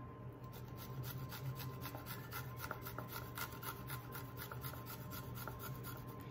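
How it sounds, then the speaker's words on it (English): Garlic cloves grated for meatloaf, a quiet rapid rhythmic rasping of strokes across a grater, close and steady for several seconds with no talking. "So I'm just gonna grate the garlic in here."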